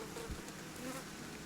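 Honeybee drones and workers buzz steadily at a beehive in a weak colony, a dense, continuous hum filling the space close to the hive.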